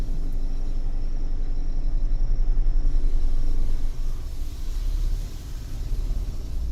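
Car starting off on an uphill slope as the engine is revved, giving a loud, close, pulsing low rumble that rises and then eases, with no talk.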